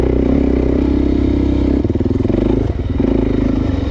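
Suzuki DRZ400 motorcycle engine running loud and close, a steady idle thrum that shifts into a choppier, pulsing rev partway through, without any voices.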